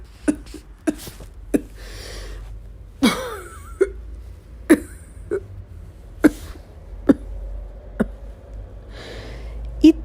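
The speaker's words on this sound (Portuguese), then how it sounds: "E teve um pequeno acesso de tosse." A fit of short, sharp coughs, loud and close, a dozen or so spasms spaced irregularly across the stretch with breathy gasps and throat noises between them.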